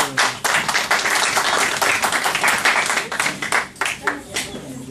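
Applause from an audience at a poetry tribute event in Stockholm, honoring Chilean poets: a crowd clapping steadily for several seconds, fairly close, with a voice briefly audible as the claps taper off.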